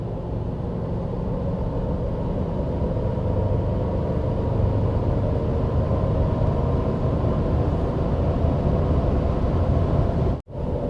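A Toyota Tacoma TRD Sport 4x4 pickup on mud-terrain tires drives a curving mountain road in sport mode, its engine a loud, steady, close rumble that drops out abruptly for a moment near the end.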